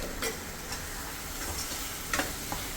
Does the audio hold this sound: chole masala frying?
yes